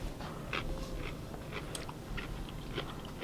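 Crunchy pickled grapes, seedless and brined with a grape leaf, bitten and chewed close up: repeated crisp crunches and wet mastication across the whole stretch, with no talking.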